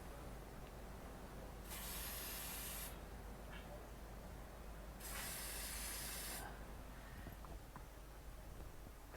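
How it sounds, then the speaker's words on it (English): Aerosol A/C odor cleaner sprayed into a car's dashboard vents in two hissing bursts of about a second each, separated by a pause, over a low, steady background hum. "I'm going to take my cleaner and I'm going to spray about a 3-second burst"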